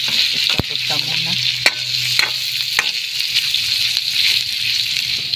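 Lechon pieces frying in a pan as they are stirred and toasted, a loud, steady sizzle close by with scraping stir strokes and a few sharp clinks of the utensil against the pan.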